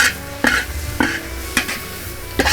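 Scrambled egg (orek telur) stir-fried in a large 10 kg batch, with a spatula scraping the pan in regular strokes about every half second over a steady sizzle, close and fairly loud.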